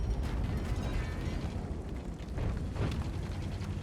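A VZ 55 tank gun booms in World of Tanks, with heavy, loud low-end blasts and a rumbling, burst-like texture, two or three close impacts in quick succession.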